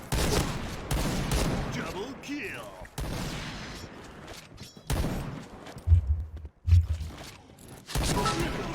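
Sniper rifle gunfire in the online shooter Point Blank, several sharp shots spaced apart amid game effects, with someone talking over much of it.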